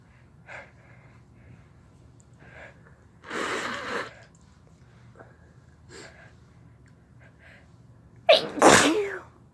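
Sneezes brought on by chhinkni snuff: a loud, sharp sneeze near the end, preceded by a breathy build-up burst and some faint sniffs and breaths.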